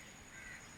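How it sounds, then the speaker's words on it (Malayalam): A crow caws faintly near a home, one soft call rising briefly over a quiet background hum, with no talking. "നമ്മുടെ കാക്ക. എന്താ കാക്ക ഇവിടെ?"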